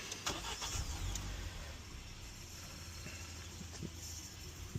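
An MG ZS car with about 112,000 miles on it is started up, the engine cranking and catching before it settles into a steady running rumble. The sound is close and fairly loud, with no talking.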